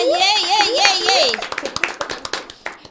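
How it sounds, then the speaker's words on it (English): A voice gives a drawn-out cheer, then a small group at a Miss Teen SA modelling event claps a round of sharp, close claps that thin out and fade over about a second and a half. "let us give them a round of applause there"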